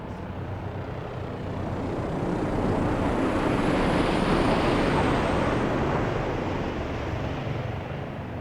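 A Bell 407 helicopter's engine roar in Microsoft Flight Simulator builds, swells to a peak mid-pass, then slowly recedes as it flies by; steady, broadband and fairly loud, with no voices.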